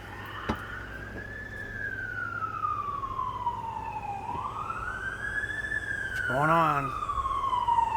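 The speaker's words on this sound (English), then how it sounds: "now there's the sirens again" Emergency vehicle sirens wail outdoors, a long rising-and-falling tone sweeping through the whole stretch, with a second siren's rapid yelp bursting in near the end, while a person speaks briefly over it.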